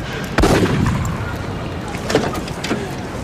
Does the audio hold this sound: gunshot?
yes